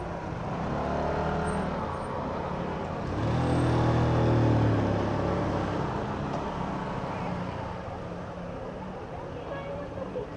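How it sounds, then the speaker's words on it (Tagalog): Heavy road traffic in Baguio, with car engines rumbling and vehicles passing steadily nearby, swelling louder for a few seconds midway, while people talk over the continuous roadway noise. "Super traffic."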